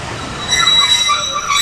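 A heritage train on Peak Rail rolls into Rowsley South station close by, with high-pitched wheel squeal rising over a low rumble, loud and brief.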